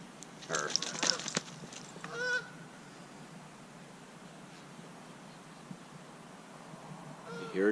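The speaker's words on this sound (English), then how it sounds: "You heard a duck or a goose." A goose honks outdoors at a bushcraft camp, a few loud nasal calls in a short burst near the start and another at the end, with quiet background in between.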